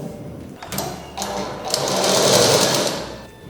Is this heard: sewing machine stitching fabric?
yes